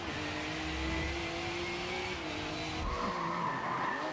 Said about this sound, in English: in Forza Motorsport 7, we've reimagined the entire racing experience on all devices